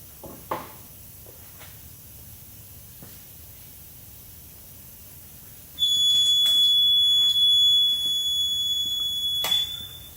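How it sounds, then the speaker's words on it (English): An electronic timer alarm beeps steadily for several seconds at a high pitch, over faint background hiss and a few soft clicks. "we got our handy dandy timer going off"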